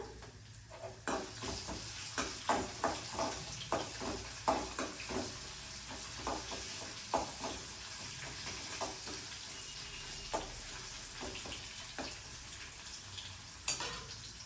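Dried red chillies and garlic sizzling in hot oil in a home kitchen, a steady frying hiss broken by rhythmic stirring scrapes and taps of a spoon against the pan.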